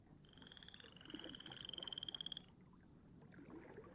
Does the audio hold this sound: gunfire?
no